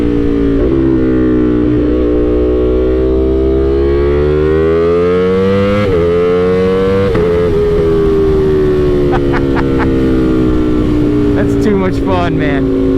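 A loud unbaffled motorcycle revs and rides, its engine note sweeping up and down through repeated gear shifts, close and continuous for the whole stretch.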